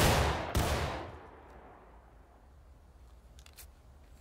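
Musket volley in the War of Rights game: two loud, near simultaneous blasts around half a second apart, with a long echoing tail that fades across the field, then a few faint distant shots.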